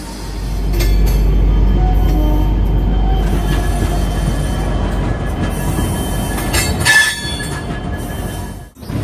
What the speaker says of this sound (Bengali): ফাইনালি আমাদের ট্রেন ছেড়ে দিল পুরীর উদ্দেশ্যে 15 মিনিট লেটে